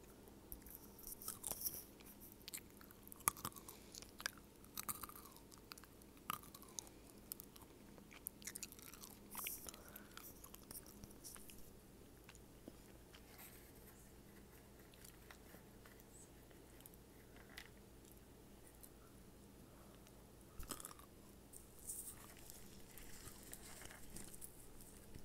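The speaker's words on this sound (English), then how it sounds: "I just love the sound of nuts being chewed up." Close, quiet chewing of nuts, with irregular crunches and bites scattered through soft mouth sounds, some sharper cracks standing out, a brief lull, then more crunching; no talking.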